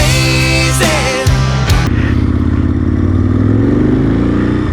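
Aprilia Gen 1 Mille motorcycle with Edwards replica styling, its engine loud and close, holding a steady idle before a couple of sharp revs, then settling into a throbbing, even drone.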